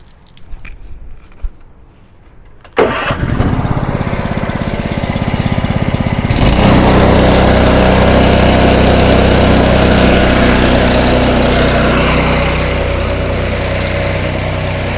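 A SoftWash remote chemical application unit's engine starts at about three seconds and then runs steadily and loudly at a constant drone, after a quiet stretch with faint handling noises.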